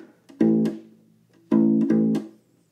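Two short plucked phrases on a U-Bass (ukulele bass), the intro of a song, each a quick strummed burst of chords ringing briefly, separated by a pause; no voices.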